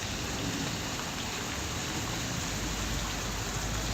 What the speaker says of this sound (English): so it's like a warm rain